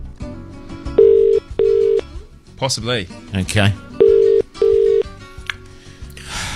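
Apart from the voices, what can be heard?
telephone dialing and ringing out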